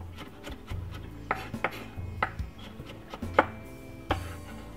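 A knife chops a medium-sized carrot into strips on a board, each cut landing as a sharp knock, about seven or eight strikes at an uneven pace over a low background hum.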